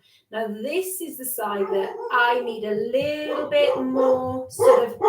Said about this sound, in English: oh, excuse the dog.